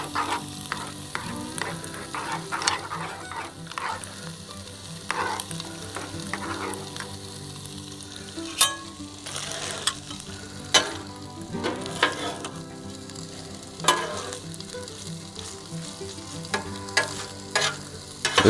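Philly cheese steak meat sizzling on a Blackstone griddle, a steady close hiss of frying broken by repeated scraping and clacking of a spatula against the flat top, with no talking.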